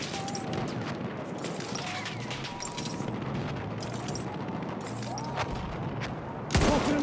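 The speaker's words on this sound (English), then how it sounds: "machine gun." Machine gun fire in a first-person shooter game, bursts of rapid gunshots and explosions running continuously over a dense battle soundscape, ending with a loud close blast; faint voice snippets in the background.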